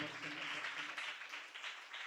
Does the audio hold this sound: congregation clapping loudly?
yes